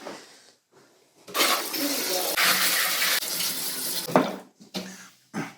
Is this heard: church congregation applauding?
no